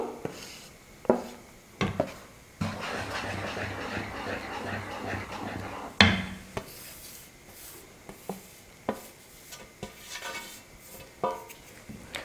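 A utensil stirs flour into a thick dough in a pot on the stove for Tamil athirasam sweet, with scraping strokes and sharp knocks against the pot at an uneven rhythm, fairly close, no talking.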